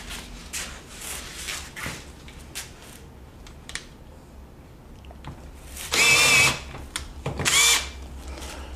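Two loud bursts of a power drill whirring, each lasting about a second, with scattered clicks and handling noises between them.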